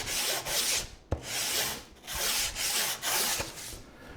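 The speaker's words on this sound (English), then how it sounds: "What I like to do on the edges, especially the sides, just kind of give it a little bit of a rub" A hand rubbing along the edges of a wooden pocket-hole cabinet panel, repeated broad swishing strokes in a steady back-and-forth rhythm, close and fairly loud, with one sharp knock partway through.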